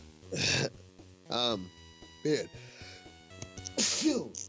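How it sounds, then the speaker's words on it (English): A few sharp, breathy sneezes burst out close by, each with a voiced gasp before it, separated by short pauses. "And I have to sneeze."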